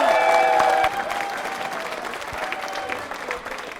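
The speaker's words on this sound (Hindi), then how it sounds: "नरेंद्र वर्मा जी के लिए जोरदार तालियां बजाइए" An audience at a quiz show claps loudly for a contestant, a dense burst of applause that starts strong, then settles into steadier, lighter clapping that carries on for several seconds.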